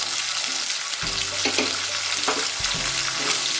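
Garlic and curry leaves sautéing in a pan, a steady close hiss of frying oil with a few soft stirring scrapes.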